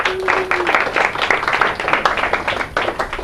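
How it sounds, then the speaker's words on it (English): A small lecture audience breaks into brief applause, a dense run of close hand claps lasting a few seconds. "A little applause for the bow tie."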